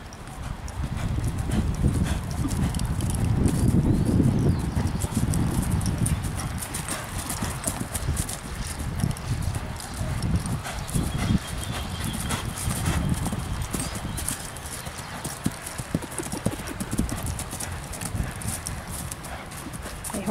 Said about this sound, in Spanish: para que vean el caballo cómo responde de acuerdo a la exigencia del jinete